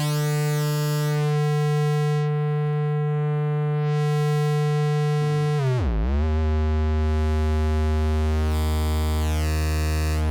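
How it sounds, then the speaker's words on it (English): Synthesizer sine wave run through a wave shaper module, a sustained buzzy harmonic-rich tone that dips sharply in pitch midway and then rises back, steady and loud with no talk. "So that's just a sine wave going through a wave shaper."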